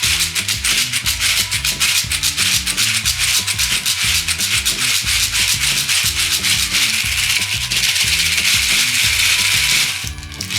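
A pair of homemade maracas shaken in a steady fast rhythm, a dense close rattle of loose grains holding evenly for about ten seconds before stopping abruptly, under a soft low repeating musical backing and with no speech.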